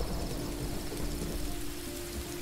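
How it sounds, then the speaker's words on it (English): Steady rain falls in the video game Road 96, a dense, even hiss with low rumbling underneath that continues throughout without any voices. "And it started raining at the perfect time."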